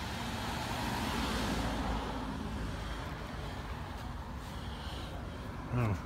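Cars passing on a roadway beside a curbside spot, a steady broad rumble of traffic throughout with a brief louder whoosh near the end, no talk.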